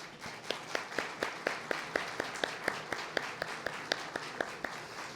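Sparse, slow clapping at a public-service speech event welcoming teachers, a small group of hands beating in a steady, evenly spaced rhythm at moderate distance, fairly quiet.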